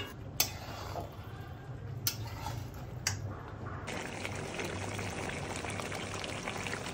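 Water poured into a pan of mutton curry (mutton kasha) as it cooks, a steady liquid pour with sizzling bubbling, preceded by a few sharp ticks or clinks, close and alone without talk.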